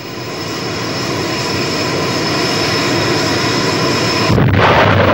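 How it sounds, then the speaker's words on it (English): An Indian Air Force combat jet roars overhead, a loud, steady engine rumble that holds and swells, then ends in a sharp, louder burst, with no voices. "Combat aircraft, armed with some of the most sophisticated and potent weapon systems, are the backbone of the Indian Air Force today"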